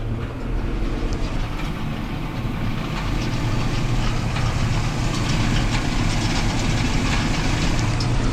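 A farm machine engine drones and rumbles continuously, loud and steady, a low mechanical roar with a faint knocking texture and no pauses.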